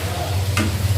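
Capcai vegetables with a splash of soy sauce and sweet soy sauce stirred in a hot pan, a close, steady sizzle with a low hum and one quick scraping stroke midway.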